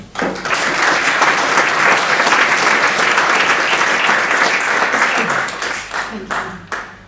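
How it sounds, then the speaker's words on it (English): A crowd gives sustained, dense applause after a talk at a science communication competition semi-final, loud and steady for several seconds before tapering at the end. "Big applause for Tano."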